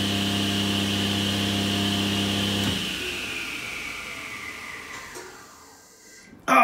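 A Laguna Fusion 3 cabinet saw hums steadily at full speed, then its brake engages and the motor tone drops away sharply, leaving a fading whir and near-quiet before a sudden thump at the end.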